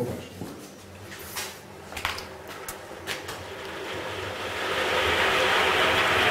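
A honey extractor spins honeycomb frames to fling out the honey, giving a steady mechanical whirring that builds into a louder, rushing hiss toward the end, with a few faint knocks early on.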